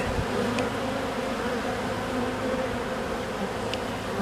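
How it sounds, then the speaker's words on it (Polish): A dense, steady buzzing of many honeybees close by at an apiary hive, continuous and even, with a faint higher buzz briefly passing now and then. "w mojej pasiece mogą być takie pszczoły"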